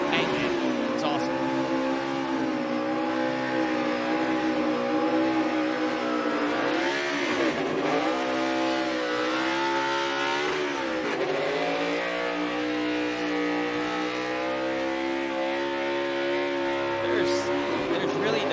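NASCAR Xfinity Series stock car doing a victory burnout at Daytona International Speedway, a loud sustained engine roar with revving swells and tire noise throughout, with people talking over it.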